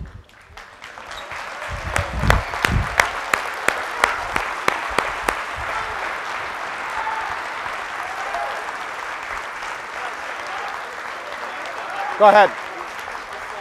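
An audience applauding at a high school boys basketball award ceremony, a few loud distinct claps early, then a steady spread of clapping from a crowd, with people talking over it and a brief handling bump near the end.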